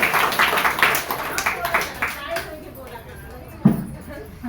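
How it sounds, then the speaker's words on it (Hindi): Audience applause at a spiritual discourse gathering, a burst of clapping from many hands that tapers off over a few seconds, with someone speaking over and after it. "एक बार इनके लिए ताली।"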